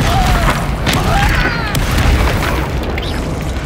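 A Bombarda spell explosion in Hogwarts Legacy, a loud booming blast with rumbling debris and crackling effects, dense and close, with faint voices beneath.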